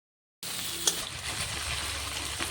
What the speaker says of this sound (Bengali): সামান্য জল দিয়ে দিলাম